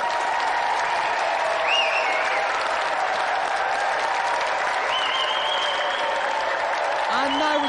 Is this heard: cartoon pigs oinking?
no